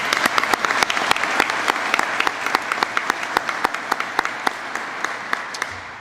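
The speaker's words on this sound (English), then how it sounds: "I think it's appropriate for us to give them another round of applause." A large audience applauds graduating career firefighter recruits at their class graduation ceremony, with steady, dense clapping that carries sharp individual claps throughout and tapers off at the end.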